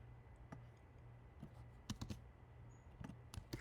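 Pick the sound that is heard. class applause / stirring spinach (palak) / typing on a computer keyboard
typing on a computer keyboard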